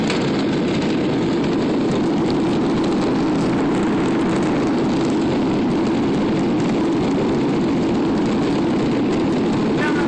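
Passenger jet touching down and rolling out at Tocumen airport in Panama City, a loud continuous cabin roar of engines and runway rumble with no pauses throughout.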